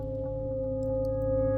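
A steady live-coded synth tone holds a sustained, bright pitch with a low hum beneath, washed in a long reverb tail that swells slightly louder over its short span, with no talk.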